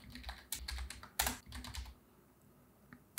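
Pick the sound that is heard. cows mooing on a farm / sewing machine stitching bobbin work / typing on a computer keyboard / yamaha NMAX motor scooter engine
typing on a computer keyboard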